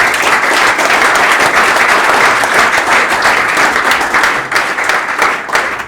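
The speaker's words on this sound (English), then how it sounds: "So big round of applause for our panelists and all the insights." A crowd claps for panelists at a crypto outlook event, a loud, dense and sustained burst of applause that fills the whole stretch with no talk over it.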